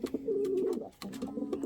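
Pigeon cooing in a breeding loft, a low throaty warble that rolls on for most of a second, pauses briefly, then resumes, close and fairly steady.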